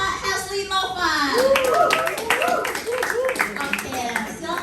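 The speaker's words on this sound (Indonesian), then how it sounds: "boleh tepuk tangannya sekali lagi untuk Kak Hesley" Audience clapping welcoming a psychologist speaker on stage at a public speaking presentation, steady mid-level applause lasting throughout, with voices and speech mixed over it.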